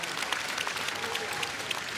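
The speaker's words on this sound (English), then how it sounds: "give them a massive round of applause" Applause for the volunteers rings across a regional arena at a taekwondo Grand Prix, a steady, fairly distant patter of many hands.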